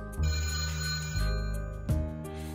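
A telephone rings in a video game, three loud electronic ring bursts in a row, each with a sharp onset and a sustained tonal buzz, nearby and alone.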